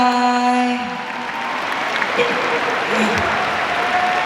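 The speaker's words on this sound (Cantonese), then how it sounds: "俾啲掌聲呢班小朋友" Audience applause swells and continues steadily after a voice finishes speaking over music, a dense crowd clapping at moderate distance, at a live pop concert after children perform.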